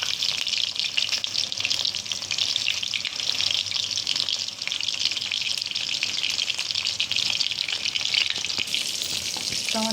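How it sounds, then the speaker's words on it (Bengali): Chicken kofta balls frying in hot oil, a steady, dense sizzle and crackle running close and loud throughout with no talk. "এগুলো ভালো করে উল্টে তেলতে আমি 2 মিনিট ভেজে নেব"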